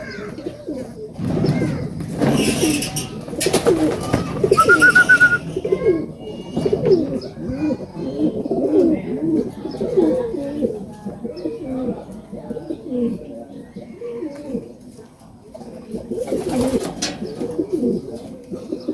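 Racing pigeons arriving at a loft during a north derby race, with repeated soft cooing and a few chirps over a busy background, close and moderately loud, a brief wing flutter possible.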